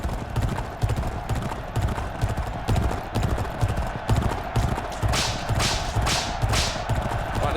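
Galloping hoofbeats from a horse race in G1 Jockey 4, a rapid continuous clip-clop drumming loud and steady throughout, with a few sharp whip-like swishes near the end.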